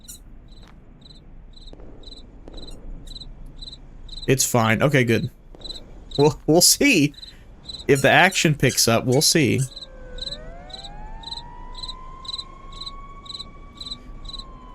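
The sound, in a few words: crickets chirping in an indie horror video game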